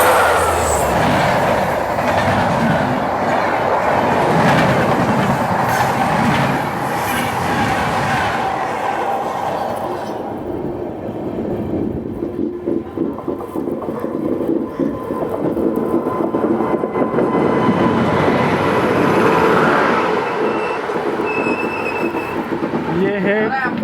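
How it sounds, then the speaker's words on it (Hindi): Solapur–Pune Hutatma Superfast Express rushes past at a crossing, a loud steady roar of wagons with rhythmic clickety-clack of wheels over rail joints, swelling and easing as the carriages rumble by. "Crossing Solapur Pune Hutatma superfast express."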